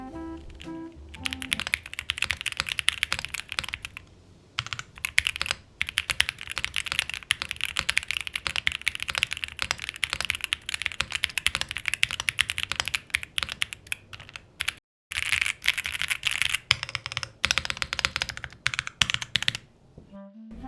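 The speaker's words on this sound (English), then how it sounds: "The sound of this keyboard is more clacky, meaning that it produces a higher pitch." Rapid clacky, high-pitched keystrokes on a QK60 mechanical keyboard, bursts of fast typing broken by a few short pauses, close and crisp with no talking.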